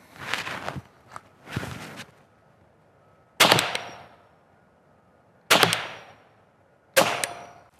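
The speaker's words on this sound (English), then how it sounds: "just go ahead and shoot these rounds up" Grimburg Gavle 1.5 less-lethal launcher firing rounds outdoors: five sharp, loud reports with clear pauses between them, each followed by a short decaying ring, with no talking.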